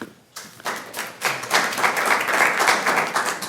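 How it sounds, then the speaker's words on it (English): An audience breaks into applause after a quiet start, clapping swelling quickly into a dense, sustained patter of many hands at moderate volume that carries on to the end. "These folks did a great job, and I think we should clap for them"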